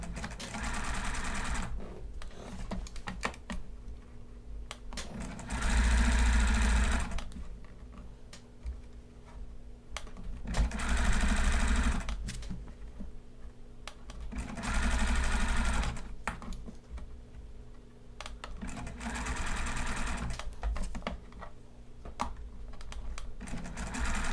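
A sewing machine stitches bias binding onto a garment collar in bursts of fast, rattling needle action, with quieter pauses between each run and faint handling noise during the gaps.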